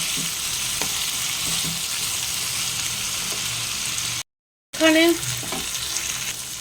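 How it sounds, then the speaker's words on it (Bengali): Onions, long beans and potatoes with salt fry in a pan with a steady close sizzle. Occasional stirring scrapes break through, and after a brief cut the sizzle returns louder. "এবারে সব একসাথে ভালো করে ফ্রাই করব"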